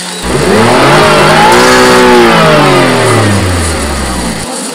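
A car engine rumbles and revs up in a smooth rising and falling sweep, loud and close, lasting a few seconds with no talking.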